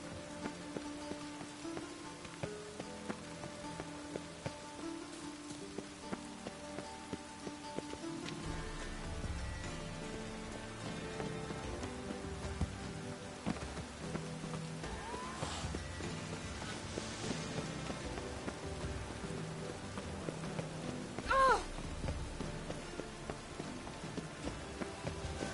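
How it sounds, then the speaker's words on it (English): Persistent city rain in The Witcher 3: Wild Hunt, a constant hissing patter on streets and roofs, with faint hoof clops and footsteps mixed in and a low ambient bed, no voices. "I love the air after a good rain."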